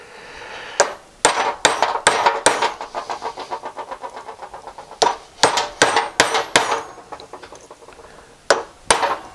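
Sharp metallic hammer blows flattening tab washer tabs on a BSA B31/B32/B33/B34 motorcycle gearbox, in bursts of several quick close strikes separated by brief pauses, with a rapid run of lighter taps in between.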